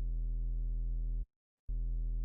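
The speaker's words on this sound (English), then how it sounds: "When I pull in a triangle wave" A synthesized triangle wave tone from Ableton sound-design software holds steady and buzzy, cuts out for under half a second, then resumes at the same level.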